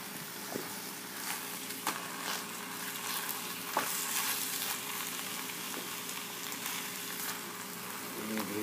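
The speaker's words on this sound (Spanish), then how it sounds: "Aquí estamos cocinando tacos a la mexicana." Tacos a la mexicana sizzle and fry steadily in olive oil, a continuous crackling hiss with a few sharp pops and clinks of stirring at moderate, close range.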